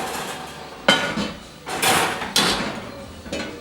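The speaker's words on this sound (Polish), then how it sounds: "Wyjmujemy nagrzany garnek, piekarnika." A few clattering metallic knocks and scrapes as a heavy hot pot is taken out of an oven for baking sourdough bread and set down, spaced apart with quiet between.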